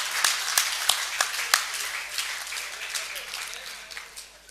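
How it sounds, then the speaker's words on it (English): Audience applause in a conference hall after a brokers panel discussion, a burst of scattered hand claps with a few sharp individual claps early on, fading out toward the end. "Guys, we need to clap harder."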